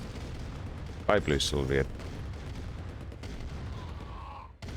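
Battle sounds from Command & Conquer: Red Alert Remastered as MiG aircraft attack, with rumbling explosions and bursts of gunfire under a narrating voice, plus a short synthetic game voice announcement.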